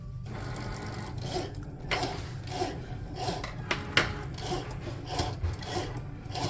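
A Cricut cutting machine foils a paper lantern design, giving a steady low mechanical hum with repeated soft scraping passes and faint clicks.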